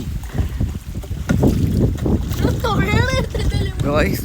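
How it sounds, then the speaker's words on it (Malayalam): Strong monsoon wind buffets the microphone on a small country boat during a village fishing trip in Kerala, a rough gusty roar running under people talking throughout. "ഭയങ്കര കാറ്റ് ഭയങ്കര കാറ്റ് മഴയും കേട്ടോ നിങ്ങൾക്ക് തന്നെ കാണാൻ പറ്റും"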